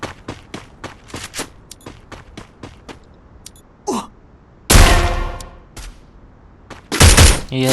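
Gunfire in a battle royale video game during a tournament grand final: a rapid string of sharp single shots, then two loud sustained bursts of automatic fire, with no commentary over them.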